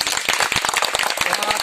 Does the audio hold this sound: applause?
yes